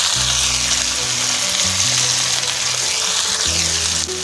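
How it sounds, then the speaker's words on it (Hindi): Potatoes frying in hot oil, a loud, close, continuous sizzle lasting a few seconds with a brief dip near the end and no voices. "ये आलूओं को ऑयल में अच्छी तरह से हम फ्राई कर लेंगे"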